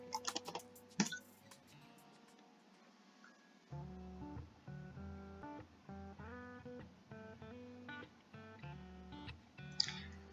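Keys tapped on a computer keyboard while entering a command for the Contiki Cooja network simulator: a few sparse, crisp clicks near the start and one near the end, with steady background music filling the middle.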